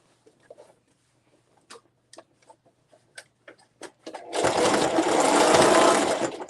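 Scattered clicks and taps of handling give way to a sewing machine running a steady, loud, close burst of stitching on a zippered tote bag for the last couple of seconds.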